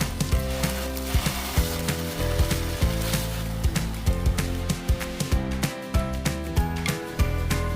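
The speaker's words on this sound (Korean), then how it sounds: "팬에 기름을 두르고 두부를 노릇노릇하게 붙여줍니다" Tofu browns in oil in a frying pan, giving a steady, close sizzle broken by frequent sharp crackles and pops, with soft tonal music running underneath.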